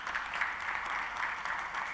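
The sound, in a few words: audience applause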